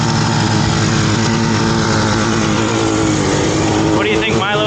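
A red 1967 Yamaha YR1 motorcycle engine runs steadily throughout at close range, a loud continuous two-stroke drone with slight shifts in pitch, while people talk over it near the end.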